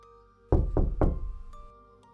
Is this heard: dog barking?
no